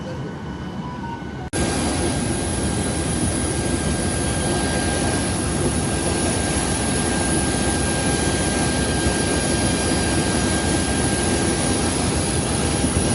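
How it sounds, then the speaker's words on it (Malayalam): Aircraft engines run with a loud, steady jet roar after a passenger plane lands at Jeddah International Airport, starting abruptly and continuing unbroken and close, with no talk over it. "ഞങ്ങൾ ജിദ്ദ ഇൻ്റർനാഷണൽ എയർപോർട്ടിൽ വിമാനം ലാൻഡ് ചെയ്തിട്ടുണ്ട്"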